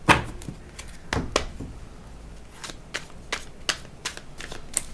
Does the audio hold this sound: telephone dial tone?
no